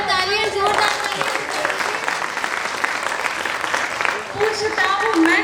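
An open mic poetry audience breaks into loud, sustained applause, a steady wash of many hands clapping together, with a voice speaking over it.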